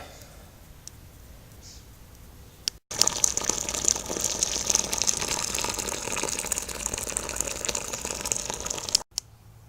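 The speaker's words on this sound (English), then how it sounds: "And I just got to add 8 litres of water for mash out" After a quiet start, 8 litres of water gush and splash steadily into a vessel of brewing mash for several seconds, then cut off abruptly.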